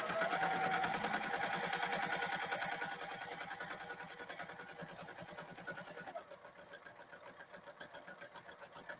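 A home sewing machine stitches a reversible holiday handbag, a fast rhythmic whirring needle that is loud at first and then softens and slows toward the end, heard alone.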